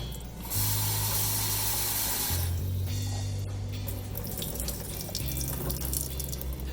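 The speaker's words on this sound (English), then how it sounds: "In the morning, drain the water from the cashews." Soaking water drains from cashews, a steady splashing pour into a sink with running water, continuous and fairly close, shifting in pitch as the flow changes, with no talking.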